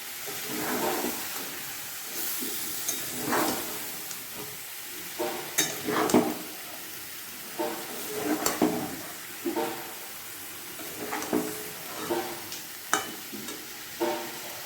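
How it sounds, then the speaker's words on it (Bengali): Cauliflower coated in a cashew-poppy seed masala simmers and gets stirred in a pan, a soft bubbling sizzle broken by repeated scraping strokes of a spoon at irregular intervals, close and without speech. "একটু সময় ধরে আমি এটাকে একটু নেড়ে চেড়ে ফোটাবো।"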